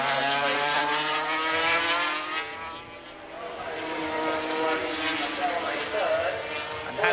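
Works superbikes from 1984, including a three-cylinder Honda, race down a circuit's back straight beneath a bridge toward a chicane, a steady droning engine roar with shifting pitch throughout, mixed under a commentator's voice.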